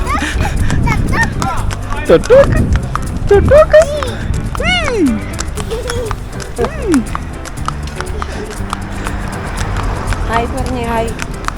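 Horse hooves clip-clop during a horse ride at Pahalgam in Kashmir, a loose rhythmic patter heard under nearby people talking and calling out.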